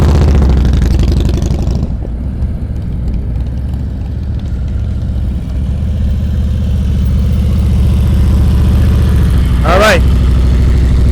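A motorcycle engine runs steadily at low speed during slow-speed riding practice in Ohio, loud and close, with a brief spoken remark partway through.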